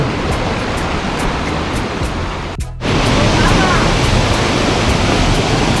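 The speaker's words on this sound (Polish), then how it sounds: "Wodospad, a właściwie no tak jakby dwa w jednej całości." A waterfall in Sapadere Canyon, Turkey, two streams joined into one, gives off a loud, steady roar of rushing water close by, broken by a brief dropout partway through.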